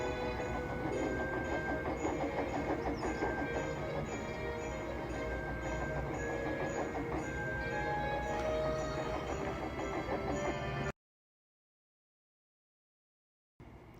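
A Bachmann model train pulling a passenger train, with a steady rolling rumble and rhythmic clicking wheels under light music, constant and moderate, then cutting to silence near the end.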